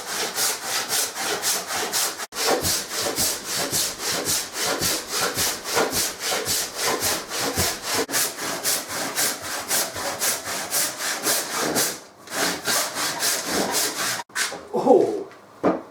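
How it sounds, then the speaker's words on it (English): Steady back-and-forth strokes of a hand saw cutting walnut for a mandolin, rhythmic and close, with brief pauses and a clatter as a piece flies off near the end. "As much as it's physically hard work doing the sawing"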